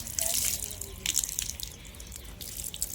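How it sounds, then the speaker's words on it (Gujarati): Freshly picked onions from a farm field being washed in water, with close splashing, sloshing and dripping that comes in short irregular bursts and has no talk over it. "તો ગાઈસ આપણે ડુંગળીને હવે ધોઈ લઈએ"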